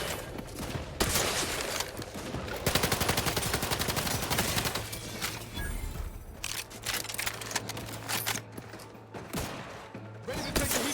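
Gunfire rattles through a firefight in The Outer Worlds: dense bursts of rapid shots and fusillades, loud and close, continuing in waves with brief lulls across the stretch, with no one talking.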